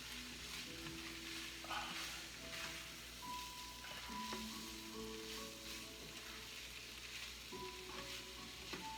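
Jamaican ackee and saltfish sautés in a pan with a continuous soft sizzle and hiss. A few faint stirring scrapes sit over a low steady hum.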